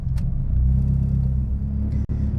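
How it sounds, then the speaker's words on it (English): A 2011 Mitsubishi Evo X GSR with flex fuel idling after start-up, a steady, loud, deep engine rumble close by with a brief dip near the end. "fire it up here. I'm gonna let it run for a split second and then just stabilize the idle"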